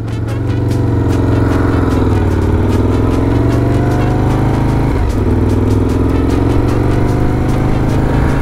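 A faulty Aprilia RSV1000R motorcycle's engine runs steadily at a loud, close idle, with a rough, rumbling tone and a brief stumble about midway through.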